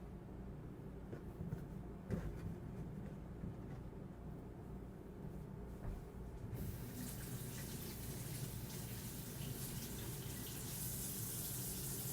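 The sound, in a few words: rinsing vegetables under running tap water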